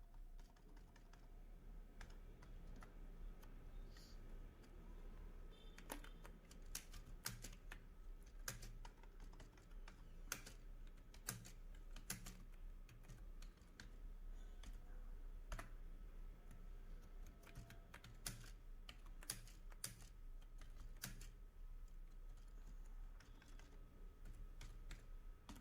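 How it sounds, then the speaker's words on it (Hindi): A computer keyboard clicks steadily as a sentence is typed into a word processor, a long run of quick, soft keystrokes with irregular pauses and a few sharper taps, close and quiet over a low background hum. "अब जैसे यहाँ पर हम किसी भी सेंटेंस को लिख लेते हैं"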